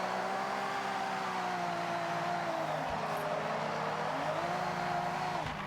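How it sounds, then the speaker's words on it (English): Drifting car in Forza Horizon 6 driven on a sim wheel, the engine note swelling and dipping steadily as throttle is feathered up and down, with a faint tire-squeal edge, continuous and close with no talk. "you can hear the throttle going up and down, up and down"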